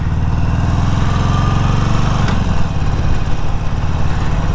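A Harley-Davidson Forty-Eight with its stock exhaust idles loudly nearby, a steady deep rumbling throb that shifts slightly partway through.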